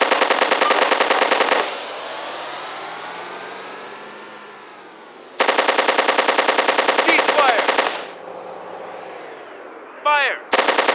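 Bursts of rapid automatic machine gun fire in the video game ARMA: Armed Assault, loud and close, in three separate volleys broken by quieter stretches of engine-like rumble and a brief whistling sweep.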